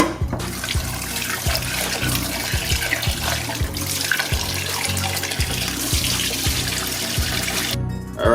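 Tap water runs steadily into a sink as mackerel is rinsed, a close continuous splashing stream with small irregular splatters of water hitting the fish and basin throughout.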